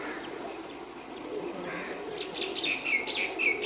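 Pigeons coo and flutter amid a mix of chirping birds, with busy outdoor background noise.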